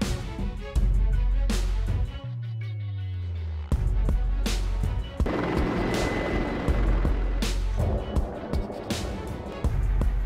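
Group of helicopters flying low over water, a steady rotor and engine drone throughout with shifting pitch, several abrupt loud bursts and hits breaking in over the continuous rumble.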